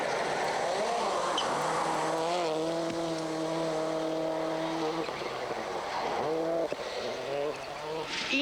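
A WRC rally car drives fast along a snowy special stage at Rally Sweden 2000, its engine note climbing and dropping through gear changes, loud and close throughout.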